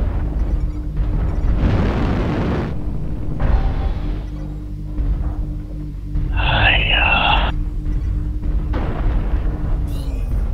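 Large explosions in a video game as a destroyed target blows up, loud booming bursts rising over a steady engine drone, with a short radio-like voice segment partway through.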